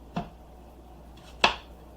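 Two crisp knife chops through an apple on a cutting board, each a sharp brief thud spaced about a second apart, close and clear with quiet in between.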